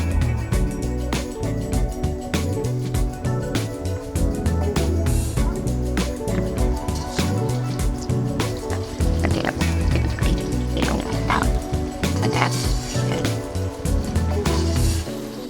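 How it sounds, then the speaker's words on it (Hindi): Fish sizzling and spitting as it fries in hot oil in an iron kadhai, a loud, steady, crackling bubbling that fills the whole stretch without letting up. "ये देखिए ऑयल अच्छे से गर्म हो गया। अब हम इसमें फिश डालेंगे"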